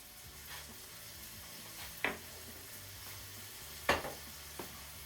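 Soy-free, gluten-free soy sauce, about two tablespoons, poured into a pan of frying leftover pork fried rice, giving a soft steady sizzle with two sharper hissing bursts as the liquid hits the hot pan.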